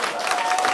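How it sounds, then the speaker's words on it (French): Brief burst of audience applause at an open-air singing show in Portiragne, dense loud clapping with a hint of cheering, filling the whole short moment. "Aux applaudissements, bien sûr."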